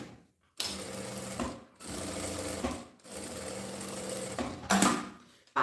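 A sewing machine stitches a seam on a handmade bag in three or four close, rapid bursts of mechanical whirring, each separated by a short pause.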